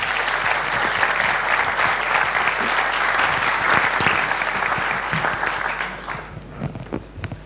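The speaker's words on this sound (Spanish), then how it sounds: "Un aplauso para ellos también, por favor." Sustained audience applause at a public forum on the future of A Coruña, dense and steady for about six seconds before thinning out near the end.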